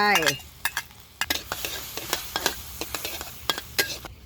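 Chili and garlic sizzle and crackle in a hot pan while a utensil stirs and scrapes in quick, irregular strokes.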